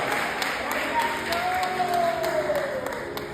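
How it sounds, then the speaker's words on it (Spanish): Sustained audience applause fills a church service, a dense wash of clapping hands with a sung or sustained voice tone rising over it. "suelta un aplauso eterno"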